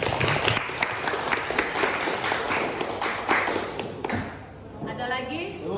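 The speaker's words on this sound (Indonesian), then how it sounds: "Beri aplaus buat Destia." A class of students applauds a classmate with a burst of steady clapping that fades after a few seconds, while voices talk over it.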